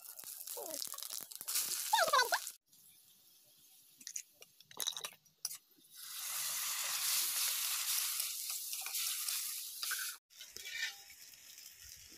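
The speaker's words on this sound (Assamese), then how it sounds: "মছলাখিনি ধুনীয়াকৈ ভাজি লোৱাৰ পিছত এতিয়া দি দিম" Sizzling and crackling of spices frying in a hot pan, with intermittent clatter of stirring and a steady hiss that rises after a short lull.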